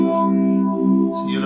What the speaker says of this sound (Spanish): le pongo un efecto que se llama phaser